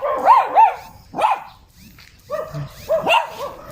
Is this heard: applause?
no